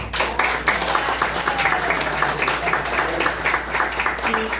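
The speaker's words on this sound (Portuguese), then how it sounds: "E eu peço uma salva de palmas também por isso" Audience applause at a 60th anniversary celebration, a steady sustained wash of clapping from many hands filling the room at even loudness from start to finish.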